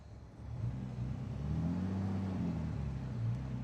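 Engine of a 1963 Austin Healey 3000 BJ7 with a 5-speed gearbox in fast road spec, droning steadily while driving and rising slightly in pitch under acceleration, with no talking.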